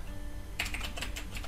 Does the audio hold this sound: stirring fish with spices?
no